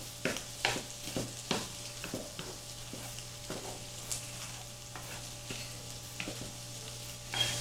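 Jumbo shrimp cut into quarters frying in a home kitchen pan, a quiet continuous sizzle broken by repeated sharp taps and clinks from stirring, over a low steady hum.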